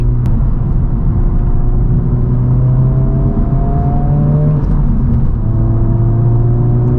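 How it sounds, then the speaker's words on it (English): A 2023 Honda Civic Type R (FL5) engine hums and revs steadily up close, with a faint turbo whistle rising above the drone. "You can hear a little bit of that turbo whistle."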